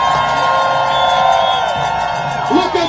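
A large protest crowd in Chicago cheering, whooping and making noise, a dense sustained roar with a loud voice carrying over it, swelling slightly near the end.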